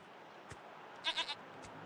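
A goat in a goat pen in the video game Wasteland 3 lets out one quick, stuttering bleat of three pulses, fairly faint over quiet game ambience with a couple of soft thuds.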